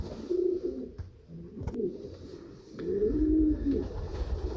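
Pigeons in a Polish breeder's loft coo in soft, throaty, rolling bursts close by, with a few brief knocks and rustles between calls and no voices.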